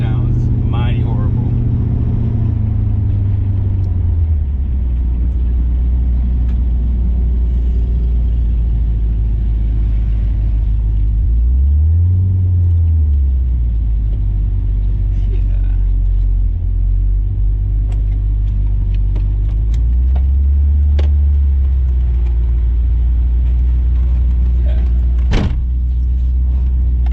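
Car with a supercharged Coyote V8 swap driving in third gear, rough and unrefined; a heavy low rumble runs throughout, swelling in pitch sweeps around a few shifts, with a voice speaking over it.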